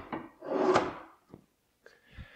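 A cabinet drawer in a tiny house slides and bumps shut with a short wooden rumble, followed by a couple of softer knocks, close and quiet in a still room.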